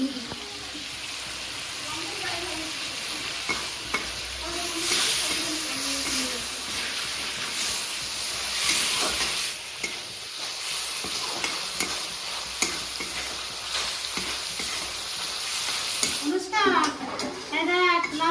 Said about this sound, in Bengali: লাল করে ভাজা হচ্ছে চিংড়িগুলো